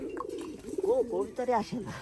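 Pigeons coo from inside a pigeon house in winter, several rising and falling warbling calls close by, overlapping with a voice talking.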